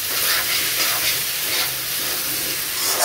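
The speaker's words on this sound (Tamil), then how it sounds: "லைட்டாக வதங்கினா போதும்." Raw mango pieces sautéing in a pan, a continuous broad sizzle and hiss close up, with faint stirring and no talking.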